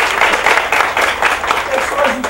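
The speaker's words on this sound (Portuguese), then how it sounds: "Palmas pra vocês." Loud, sustained applause from a lecture audience, dense clapping throughout with no pause.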